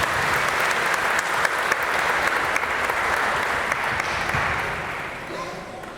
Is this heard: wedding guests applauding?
yes